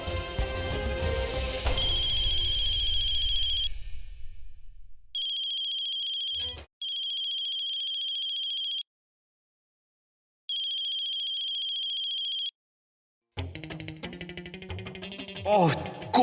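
A phone ringtone plays in steady repeating bursts with brief gaps, clear and close, after a stretch of dramatic music and before voices and music return, in a scene from a Hindi TV serial.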